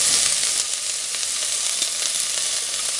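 Green pepper sizzling as it is added to a pan of carrot sticks over medium heat, a steady loud frying hiss with crackling pops throughout.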